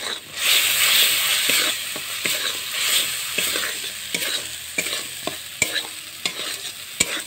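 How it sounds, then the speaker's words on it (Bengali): Onion paste and ginger paste fry in hot oil in a village kitchen with a constant close hiss, broken by repeated scraping and tapping strokes of a spatula stirring the pan. "পেঁয়াজটা ভালো করে লাল লাল করে ভেজে নেব"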